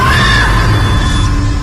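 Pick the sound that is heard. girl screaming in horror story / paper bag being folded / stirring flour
girl screaming in horror story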